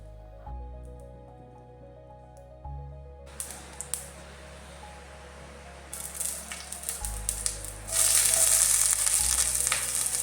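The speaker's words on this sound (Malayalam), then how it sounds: "കടുക് പൊട്ടി വരുമ്പോഴത്തേനും ഞാൻ അരിഞ്ഞു വെച്ച ചെറിയുള്ളി ഇട്ട് കൊടുക്കുന്നുണ്ട്" Shallots sizzle and crackle in hot coconut oil with mustard seeds, a soft steady frying that swells into a loud, bright hiss toward the end.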